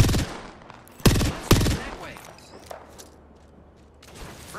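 Gunfire in Apex Legends: two loud, sharp shots near the start, then scattered softer reports and game noise fading out.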